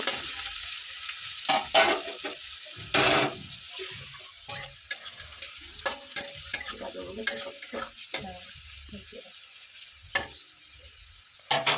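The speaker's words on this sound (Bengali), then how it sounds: "তো গাজরটা আমি হালকা করে কিছুটা ভেজে নিয়েছি" Chopped carrots fry in hot oil for fried rice, a low sizzle broken by repeated scraping, clattering stirs of a spatula in the pan, close and irregular.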